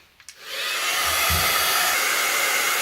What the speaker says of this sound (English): I have got my trusty heat gun